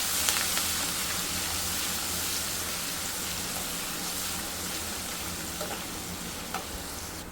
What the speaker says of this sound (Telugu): కొద్దిగా కరివేపాకు కూడా వేసి కలుపుదాం.